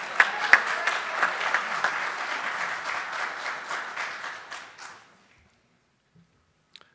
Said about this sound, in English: Steve, give him a round of applause for that finish